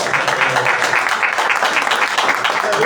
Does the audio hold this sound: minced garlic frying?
no